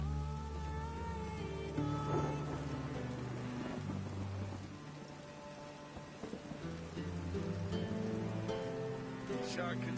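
Steady rain falls during a storm, a dense continuous patter. Musical tones and low rumbles sit underneath it, and the sound stays fairly loud throughout.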